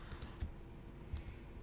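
A computer keyboard being typed on, with a few soft, close keystrokes spaced unevenly over a brief moment. It is faint and there is no talking.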